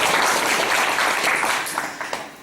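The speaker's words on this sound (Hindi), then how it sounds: "बेईमानी ना करो, तकनीकोरी ना करो रे, जोरदार ताली बजाओ।" An audience at a devotional Hindi gathering claps together, a dense, loud burst of applause that thins out near the end into a few scattered final claps.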